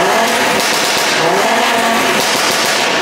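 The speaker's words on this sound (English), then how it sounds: "We have to rev this engine." An Audi RS3 engine revs hard and loud close by, a dense continuous roar with tire-squeal-like edges that holds steady through the whole burst, with no talk over it.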